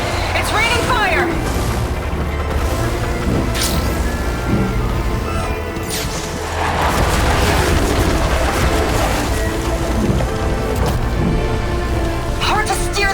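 Fire rains down in the game Horizon Forbidden West, with deep booms and crackling impacts pounding steadily under frequent voices, loud and close throughout.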